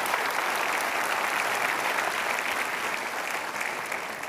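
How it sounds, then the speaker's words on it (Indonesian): An audience gives sustained, even applause throughout, a dense wash of clapping at moderate level with no pauses. "Jangan tepuk tangan, saya makin bingung ini."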